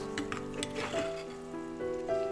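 Onion, ginger and garlic paste sizzles and fries steadily in a pan for a dal mash masala, with a few stirring scrapes over the continuous crackle.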